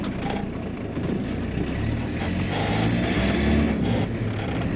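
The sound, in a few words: Volkswagen Caddy engine revving with new pump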